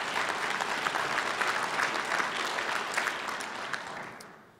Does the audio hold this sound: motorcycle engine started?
no